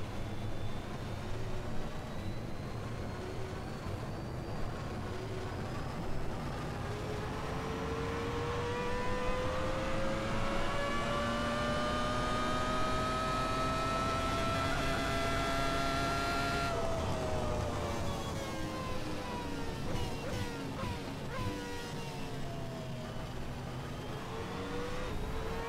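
Ferrari F2002 Formula One car engine in an Assetto Corsa racing game mod, a high-pitched screaming V10 climbing steadily through the revs, then dropping sharply on a gearshift and building again, loud and continuous with no talk.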